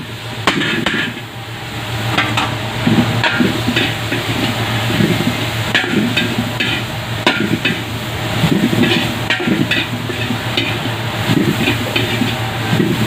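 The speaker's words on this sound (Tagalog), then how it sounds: "gisa na natin yung ating ampalaya" Bitter gourd (ampalaya) being sautéed in a pan, a steady loud sizzle with repeated clanks and scrapes of a spatula stirring, continuous throughout with no talking.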